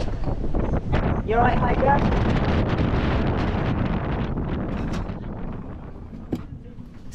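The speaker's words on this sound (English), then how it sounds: "Blowing a bit out here today. We've got the short straw team driving in 40 knots of breeze." Strong 40-knot wind roars and buffets steadily across the deck of the sailing yacht Explorer racing in the 2023 Ocean Globe Race on a sunny day, a dense continuous rush that eases slightly toward the end, with a brief spoken question partly under it.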